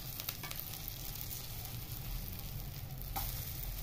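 Chicken shami kababs frying in a pan of oil, giving a steady close sizzle that continues throughout with faint crackles over a low background hum.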